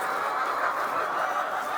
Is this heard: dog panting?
no